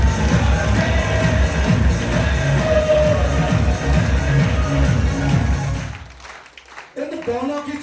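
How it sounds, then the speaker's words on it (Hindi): An audience at a recognition event claps loudly and steadily, a dense wash of applause that stops abruptly near the end, after which a voice begins speaking. "और एक बार इन दोनों के लिए जोरदार ताली बजा दो।"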